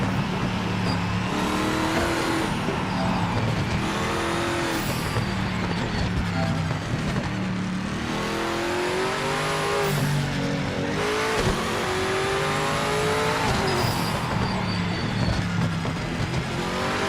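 Dodge Viper GTE race car in a racing video game, engine loud and close, repeatedly revving up through the gears with shifts and brief tire squeal, no talking.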